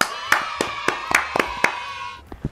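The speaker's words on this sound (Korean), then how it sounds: "박수!" A few people clapping hands indoors, about seven distinct claps at a steady, moderate pace, fairly close, with a faint tonal hum underneath and two softer claps at the end.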